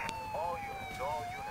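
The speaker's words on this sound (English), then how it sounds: "I will turn off the siren." A police car siren from the LCPDFR video game wails in a steady rising and falling tone over a low background rumble, fairly close, with some speech-like sound underneath.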